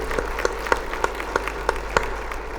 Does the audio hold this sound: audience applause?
yes